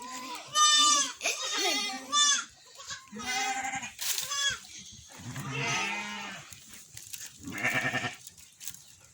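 Sheep and goats bleat repeatedly from close by in a Masai village, loud overlapping calls in bursts with short pauses as the herd gathers for washing.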